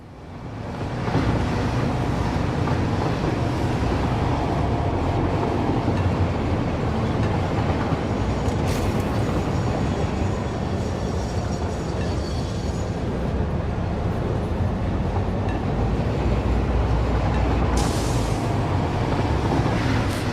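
A train rolls along in the video game Satisfactory, a loud continuous rumble with rattling wheel noise that holds steady for about twenty seconds.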